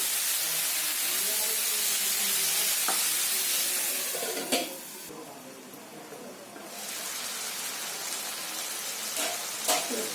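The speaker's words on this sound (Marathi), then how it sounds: "आता याच्यामध्ये आहे ना कोबी टाकते आणि थोडं झाकण मारते" Cabbage stirred and frying with tomatoes in a covered pan while cooking an aamti-style curry, giving a steady close sizzle and hiss with a few sharp clinks of utensil or lid partway through.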